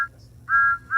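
A steam locomotive whistle in a railway video game sounds two short, clear, steady toots separated by a brief pause, loud and alone.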